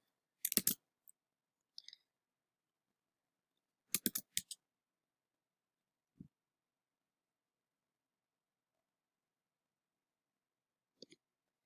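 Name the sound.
computer mouse clicking a link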